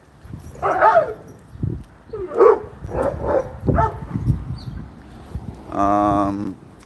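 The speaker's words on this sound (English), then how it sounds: "these dogs are trying to eat me." Dogs barking in a few short bursts, mixed with voices talking, followed by a sustained harmonic whine or howl near the end.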